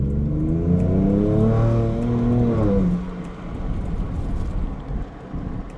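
A 2022 Ford Ranger Raptor pulling hard at full throttle after turbo lag, its engine note rising loudly and steadily for a few seconds before easing into a rougher, quieter rumble and road noise.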